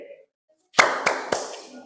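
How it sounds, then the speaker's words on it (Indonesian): Hands clap in a classroom, about three sharp claps after a short silence, fairly close and loud against the room's background noise. "saya tepuk tangan 2 kali"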